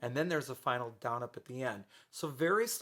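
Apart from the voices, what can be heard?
No everyday noise stands out behind the speech.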